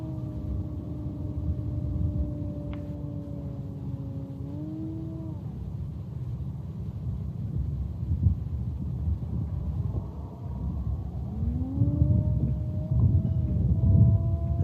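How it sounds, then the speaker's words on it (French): Strong gusty wind buffets the microphone throughout during a Multiplex FunCub NG RC plane's second flight on a 4S battery, a steady low roar with the motor's whine rising and falling above it. "il y a pas mal de vent pour ce deuxième vol en 4S"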